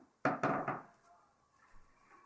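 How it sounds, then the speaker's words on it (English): Wooden floorboards in a bedroom give a few quick, close knocking thumps underfoot, followed by a faint trailing creak and low room noise. "Creaky floorboards"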